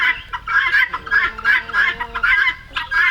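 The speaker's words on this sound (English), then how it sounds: "Got the guineas and the ducks and other stuff here." Guinea fowl and ducks on a homestead in autumn, giving loud, close, repeated harsh clucking calls in quick rhythmic bursts with brief pauses between them.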